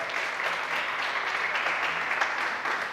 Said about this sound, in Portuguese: E vamos aplaudir o Papa Leão XIV.